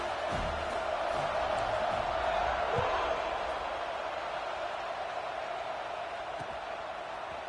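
Football stadium crowd cheering before a kickoff, a broad continuous roar of voices holding steady and slowly easing, with a few thumps and a commentator's voice faintly in the mix.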